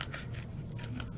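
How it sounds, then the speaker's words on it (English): Scissors cutting, a quick run of crisp snipping strokes close up and fairly quiet, with no talk. "we can cut it down to the size that we want them now."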